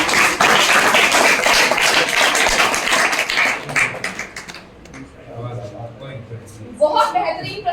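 Enthusiastic applause for children at an anti-drug poster-making competition, loud dense clapping from an audience that fades out midway, with a voice speaking over the quieter end.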